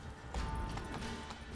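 Roach, Geralt's horse in The Witcher 3, moves on ground near a ravine with a few muffled hoof thuds over a dense game ambience and low rumble, fairly faint and close.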